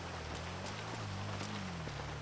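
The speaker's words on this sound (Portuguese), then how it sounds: "Mano, tá chovendo pra caramba, viu, fi?" Heavy rain falling in the video game GTA V, a steady dense patter spread evenly across the whole stretch, with a low engine-like drone underneath and no talking.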